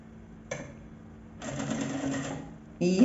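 A sewing machine stitches a bag strap ring in short bursts: a brief rattle, a pause, a longer run of rapid needle clatter, then a final burst, close and fairly quiet.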